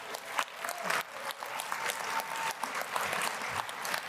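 A convention audience claps through a brief round of applause for a keynote panel, moderately distant with uneven individual claps standing out from the steady patter.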